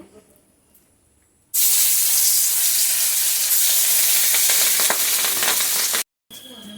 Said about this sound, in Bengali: এখন মাছটা বেজে তুলে নিচ্ছি